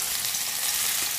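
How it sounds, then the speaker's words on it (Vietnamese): Vegetarian ribs frying in hot oil in a home kitchen, a close, steady hiss and crackle of sizzling without pause or talk. "các bạn chiên hết cái phần sườn của mình ha"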